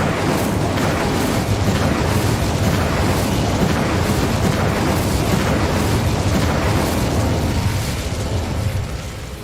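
A sustained roaring, crackling burst of fire magic from the Incendio spell in Hogwarts Legacy, loud and continuous for nearly ten seconds with dense rumbling low end, fading slightly at the very end.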